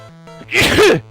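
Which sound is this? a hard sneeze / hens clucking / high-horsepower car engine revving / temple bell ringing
a hard sneeze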